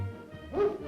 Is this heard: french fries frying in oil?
no